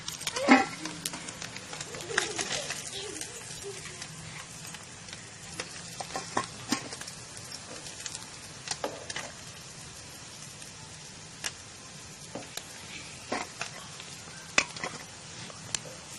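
Nethili anchovies frying crisp in hot oil, a steady close sizzle and bubbling crackle with occasional stirring clinks throughout.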